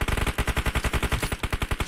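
An automatic weapon fires in PUBG Mobile: one steady, rapid burst of about two dozen evenly spaced loud, close shots rattling without pause.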